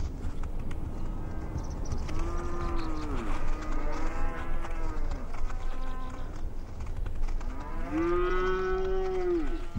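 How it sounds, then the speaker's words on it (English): Cattle in dry Omani scrubland lowing repeatedly while browsing leafless bushes, several drawn-out moos from nearby animals over a constant low background with faint hoof and insect sounds. "Browsing the already leafless bushes, the cows continue the work of the goats."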